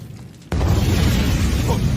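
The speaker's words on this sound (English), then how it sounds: "What's that? A smoke bomb?" A smoke bomb goes off in an anime scene with a sudden loud burst that swells into a sustained, rumbling hiss lasting well beyond the initial pop, close and filling.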